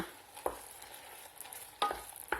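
Apples cooking down in a pan for fromage blanc verrines are stirred with a utensil, giving three sharp scraping clacks spaced through a faint low background of gentle simmering, close by and fairly quiet.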